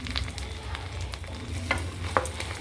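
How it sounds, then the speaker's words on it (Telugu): Mustard seeds, urad dal, chana dal and cumin frying in hot ghee for a millet and moringa leaf khichdi, a soft steady sizzle with a few sharp pops and crackles near the end. "నెయ్యి కొద్దిగా హీట్ ఎక్కాక పోపు సామాను, ఆవాలు, మినపప్పు, శనగపప్పు, జీలకర్ర"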